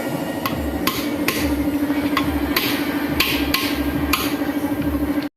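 A small hammer strikes brake parts of an Isuzu dump truck in a steady series of sharp, ringing metal clanks, roughly a dozen blows, close by over a continuous hum.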